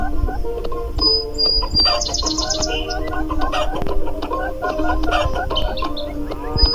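Video-game chickens in the Meena game cluck in short repeated bursts over a busy, constant backdrop of game music and effects, moderately loud throughout with no talk.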